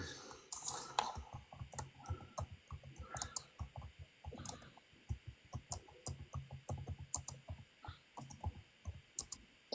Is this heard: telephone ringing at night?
no